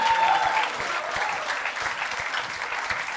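Audience applause at a comedy show, a steady wash of clapping from a crowd that carries on throughout without pause.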